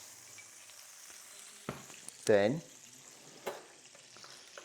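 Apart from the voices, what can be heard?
butter frying in wok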